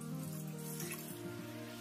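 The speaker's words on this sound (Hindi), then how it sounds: "कुकर में हमने डाला है 1 ग्लास पानी" A glass of water is poured into a metal pressure cooker while making Rajasthani dal dhokla. The pour is short, close and steady, with a ringing tone from the vessel and no voices.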